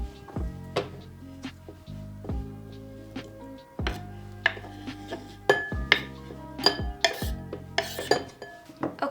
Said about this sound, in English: And then I'm going to mix everything together in the bowl